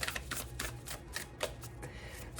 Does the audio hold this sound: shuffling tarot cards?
yes